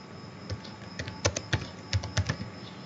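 Keys on a computer keyboard are tapped in a loose, uneven rhythm of sharp clicks, with some quick double strokes, close by over a faint steady background hum.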